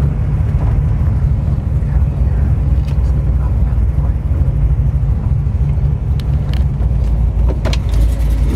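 A 1970 Chevrolet Nova SS resto-mod with open headers, its engine rumbling loud and steady at close range for several seconds, with a few sharper bursts near the end and people talking over it.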